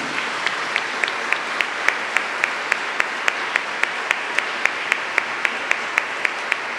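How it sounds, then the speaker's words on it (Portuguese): A church congregation claps in steady unison right after the Gospel reading at Mass, a crisp, evenly spaced beat of about three claps per second that holds for several seconds over a quiet hall. "Aplaudamos a palavra de Deus."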